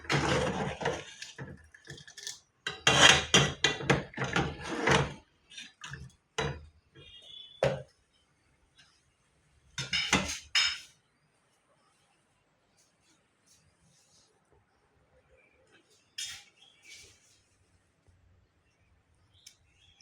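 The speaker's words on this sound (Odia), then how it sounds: "ଆଖି ପୋଡ଼ୁଛି, ପିଆଜ କାଟୁଛି" Knife chopping onions on a board in a home kitchen while cooking, a series of sharp irregular chops in bursts with pauses and a few softer taps, under a quiet room.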